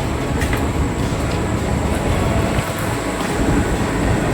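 A train passes at Sitafalmandi in Hyderabad, heard as a steady, fairly loud broadband rumble and rush that holds throughout without talk.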